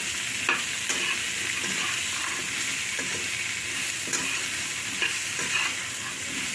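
A spoon stirs pumpkin curry in a hot pan, scraping and sizzling steadily with soft clicks against the metal, close and continuous without talk.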